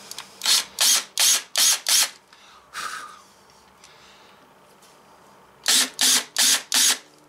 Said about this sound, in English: countersink those just a little bit.